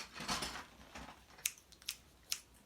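Scissors from a school pencil case snap shut a few times, sharp isolated clicks close by after some soft handling rustle, quiet overall.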